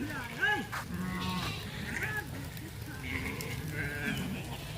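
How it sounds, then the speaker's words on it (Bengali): Sheep bleating nearby as the flock is let out to graze after rain, several wavering calls over a steady outdoor background. "আমাদের ভেড়াগুলো গাড়লগুলোকে আপনার মাঠে চড়াতে নিয়ে যাওয়ার জন্য বের করা হয়েছে"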